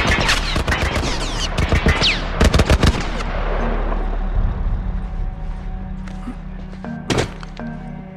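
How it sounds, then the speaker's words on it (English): A .50 caliber machine gun in The Last of Us fires in loud, rapid bursts of heavy shots, then gives way to a low rumbling hum with a couple of later isolated thuds. "Shooting non-stop."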